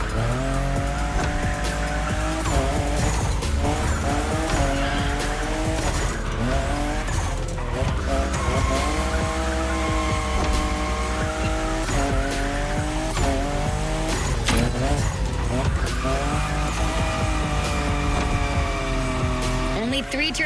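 A Toyota Supra, the fifth-generation model, drifts in the racing game The Crew Motorfest, with a steady loud engine note rising and falling through gear changes and tire squeal through the corners.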